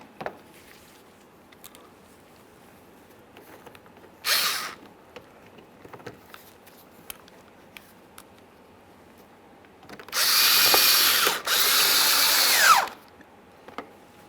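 A power tool whirs in a short burst, then a longer loud run with a brief break, driving out mounting screws along the side of a 2013-2020 Ford Fusion bumper, with light handling clicks between and no talk.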